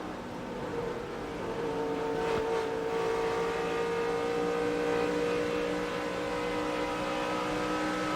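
NASCAR Craftsman Truck Series race trucks, including a Toyota Tundra, roar around the Auto Club Speedway oval in 2006, a steady loud engine drone with layered harmonic whine and no talking.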